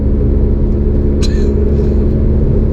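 Inside a car cruising along a dual carriageway in Wales, a loud, constant low rumble of road and engine noise fills the cabin, with one brief high chirp partway through.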